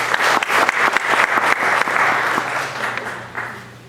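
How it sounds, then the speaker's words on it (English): An audience at a music event breaks into a dense round of applause that is loud at first and then gradually fades. No one speaks over it. "So a big round of applause for her."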